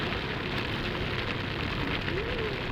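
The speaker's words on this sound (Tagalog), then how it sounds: "Uy, lakas ng ulan." Heavy rain during a motorcycle ride on a Honda Beat, a loud, dense, steady wash of rain and road noise that fills the whole clip with no voices.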